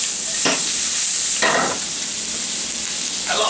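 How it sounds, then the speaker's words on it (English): Seasoned shrimp frying in melted butter in a pan, a close, steady sizzle broken by a few sharp scraping swishes as the pan is stirred. "Once the butter melts down, then I'll just keep swishing around the pan."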